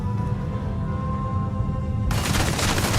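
An energy rifle fires in Starfield, a dense, loud burst of rapid shots erupting abruptly after a quieter stretch of background hum and rumble, continuing to the end.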